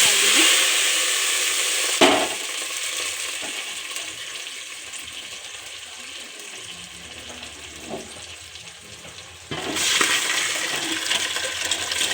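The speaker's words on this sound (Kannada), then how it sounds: "ಸಾಸಿವೆ ಜೀರಿಗೆ ಚಟಪಟ ಅಂದು ಬೆಳ್ಳುಳ್ಳಿ ಕೆಂಪಾಗಿದೆ" Loud, continuous sizzling of mustard and cumin seeds crackling in hot oil with garlic, easing in the middle then surging again near the end; no voices.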